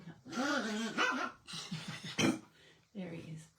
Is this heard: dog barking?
yes